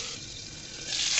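Potato pieces sizzle steadily in a pan of chicken curry as they are stirred, a soft, close hiss that brightens slightly toward the end.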